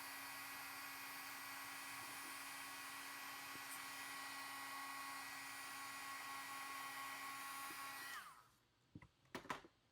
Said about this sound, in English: I'm getting my heating tool nice and hot, and now I'm going to heat the embossing powder.